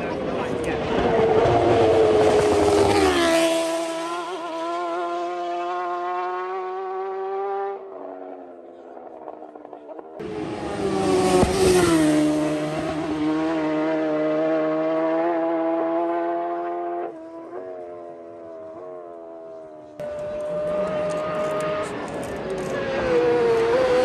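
Racing motorcycles at the Isle of Man TT road races scream past one after another, each rising loud and close then falling away as it shifts up through the gears, with brief quieter gaps between passes.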